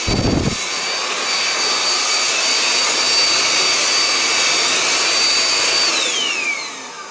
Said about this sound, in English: I've got this thing, high pressure output compu cleaner